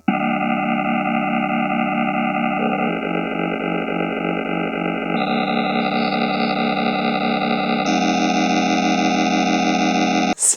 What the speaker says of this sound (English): Sub-generator is now one octave lower.